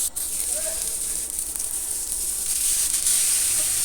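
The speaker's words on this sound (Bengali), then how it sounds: "টমেটো কুচিগুলো দু এক মিনিট ভেজে নেওয়ার পরে এর মধ্যে আমি ছোলা এবং আলুগুলো দিয়ে দিচ্ছি" A steady, close hiss of frying continues as chickpeas and potatoes go into a pan of sizzling chopped tomatoes, with a few faint clatters.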